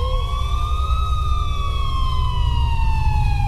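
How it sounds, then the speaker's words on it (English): A wailing siren rises and falls steadily over a constant low rumble of traffic, sounding moderately distant and continuous throughout. "until I finally heard sirens in the distance."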